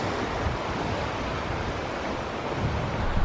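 Sea waves along the Cornish coast near St Keverne on the Lizard, a steady wash of surf with wind noise buffeting the microphone, continuous and fairly close throughout.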